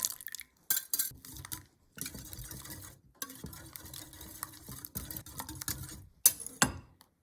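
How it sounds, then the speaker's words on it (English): Matcha milk is mixed in a bowl, with brisk utensil scraping and clinking in bursts separated by short pauses, close and clear. "Add matcha milk to the bowl and mix well."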